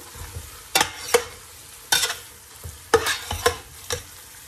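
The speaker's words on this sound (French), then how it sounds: "je vais augmenter le feu pour saisir la viande" Floured beef pieces searing over raised heat in a pan for a beef and Jerusalem artichoke stew: a steady close sizzle broken by several sharp scrapes and knocks of a stirring utensil.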